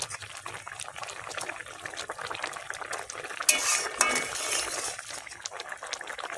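Spices and sugar stirred in a cooking pan, with soft scraping and light clinks of a metal spoon against the pan over a low bubbling simmer, close and fairly quiet, with no voices.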